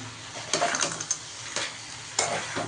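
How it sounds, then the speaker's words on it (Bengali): Fried bori lentil dumplings being stirred with vegetables in a pan, a few scraping, clattering strokes of a spoon against the pan over a soft background sizzle, spaced irregularly and close. "দিয়ে দেবো ভেজে রাখা বড়িগুলো, মিক্স করে নাও।"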